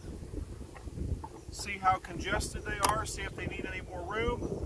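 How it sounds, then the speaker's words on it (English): Gusty wind buffets the microphone with low rumbling noise while a person speaks over it, close and somewhat muffled, outdoors beside a large beehive. "And sorry about the wind."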